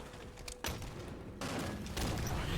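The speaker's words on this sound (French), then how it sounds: "je me suis juste pris une grenade random" Bursts of video-game grenade blasts and gunfire, several sharp booms in quick succession with dense rattling noise between them, loud and close.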